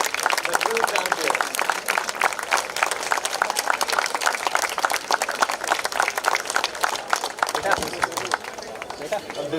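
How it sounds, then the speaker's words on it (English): An audience at an inter-club sports carnival prize distribution applauds in sustained, dense clapping, with an announcer's voice over it. "a big round of applause for Leander Pace, the true champion."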